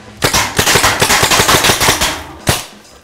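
A rapid string of sharp bangs from bullet-hit special effects on a film set, about a dozen loud close cracks in a fast burst, then one last bang after a short pause.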